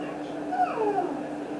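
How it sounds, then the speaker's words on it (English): Dogs whining in a home kitchen during pot pie preparation, a high wavering whimper that rises and bends twice in quick succession over a steady background hum. "And listen to the dogs whine."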